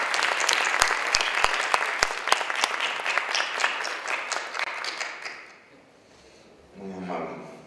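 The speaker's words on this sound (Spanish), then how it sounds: "Un aplauso, por favor." Audience at a conference workshop in Lima breaks into applause, a few sharp close claps over steady clapping that fades out after about five seconds, followed by a voice.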